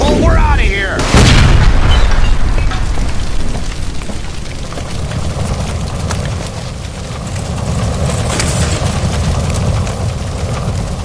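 A gas line blows up in L.A. Noire after being shot, a loud booming blast that rumbles on with heavy low roar and debris, with a voice speaking over the aftermath.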